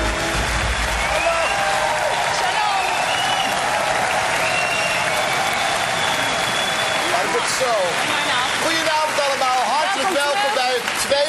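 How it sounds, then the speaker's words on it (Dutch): Sustained, dense applause from a large studio audience at the 1999 Dutch national song contest final, steady and loud throughout with a crowd murmur underneath. "Geef ze nog één hartelijk applaus."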